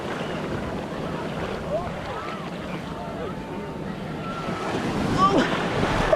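Ocean surf at Manhattan Beach rolls in steadily under gusty wind noise on the microphone, the wash swelling louder near the end as a wave arrives close by.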